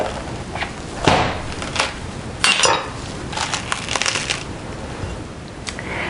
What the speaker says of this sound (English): I've cracked my young coconut in half